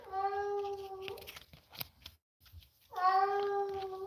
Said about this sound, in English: Got my cat crying.